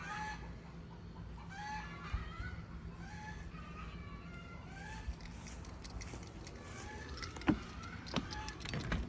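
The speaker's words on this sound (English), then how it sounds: "And you hear the chickens behind us." Chickens cluck and call from behind a house, with a steady background hum from a window air-conditioning unit on a storage shed. The clucks are moderately faint and come at irregular intervals, with a brief knock near the end.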